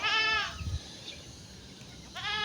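A neighbour's goat bleats twice nearby, with a loud wavering cry at the start and another at the end. Quiet outdoor rural background fills the gap, and no one talks.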